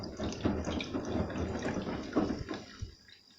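Water runs steadily from a tap into a sink for laundry, a continuous splashing flow at moderate level that tapers off toward the end, with no voices.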